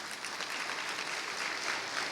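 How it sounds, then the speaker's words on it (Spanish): A church congregation applauds during a Spanish-language sermon with a continuous wash of clapping from many hands, even in level and moderately distant, with no voices over it. "¿Cuántos pueden darle un aplauso al Señor por eso?"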